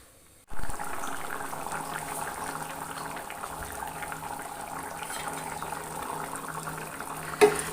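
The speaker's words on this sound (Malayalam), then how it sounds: "നല്ലോണം തിളച്ച് വന്നിട്ടുണ്ട്" Elephant yam theeyal curry bubbling in a pan, a steady close simmer of popping bubbles that starts abruptly and continues evenly, with a brief knock near the end.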